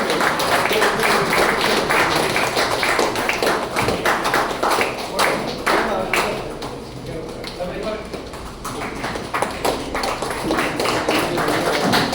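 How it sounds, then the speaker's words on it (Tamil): An audience applauds at a shawl-honoring ceremony of a long-established association, a loud, dense patter of many hands clapping continuously, dipping briefly midway before swelling again. "அனைவரும் கைத்தட்டி உங்களுடைய மகிழ்ச்சி ஆதாரத்தில் தெரிவிக்கின்றது"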